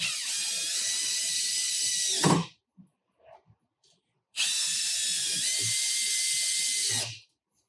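A power driver whirs in two sustained bursts of a couple of seconds each as Phillips head screws go into a chaise lounge frame, separated by brief quiet with small clicks and handling noises.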